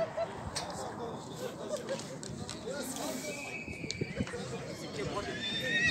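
Horses and female foals neigh and whinny at the Zhapalak livestock market amid a busy background of crowd noise and movement.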